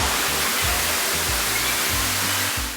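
The indoor waterfall in the Cloud Forest at Gardens by the Bay, Singapore, roars as a loud, steady, hissing rush of falling water, with faint low murmurs underneath.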